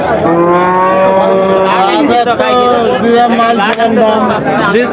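Cattle moo loudly and close at a livestock market selling local-breed cows, long drawn-out calls overlapping one another with people talking in the background.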